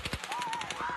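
Rapid automatic gunfire at a concert in news footage, a fast string of sharp repeated shots that keeps going through the whole clip, loud and slightly distant.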